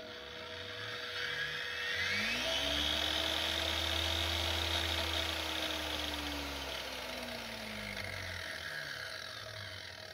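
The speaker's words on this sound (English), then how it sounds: "we know that the batteries can power the angle grinder" A 120V angle grinder converted to battery power runs steadily, its motor whine rising in pitch as it spins up, holding a sustained high drone, then winding down near the end. No talk.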